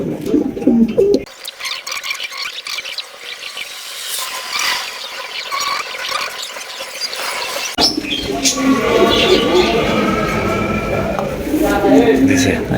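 Pigeons cooing softly and repeatedly, close by, with a steady background hum and some rustling throughout.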